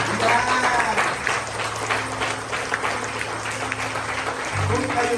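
Church congregation applauding in a dense, steady wash of clapping through the whole stretch, with a low hum underneath and some voices mixed in.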